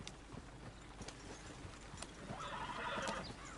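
A horse neighs in the Red Dead Redemption 2 game, a fairly faint whinny rising near the end, with hoof clip-clops and scattered clatter heard before it.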